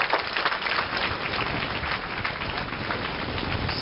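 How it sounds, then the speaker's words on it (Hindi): Students at a career counselling seminar for 9th and 10th graders clap for their classmates, a steady, dense wash of hand claps filling the room throughout. "इन लोगों के लिए तालियां बजाओ एक बार।"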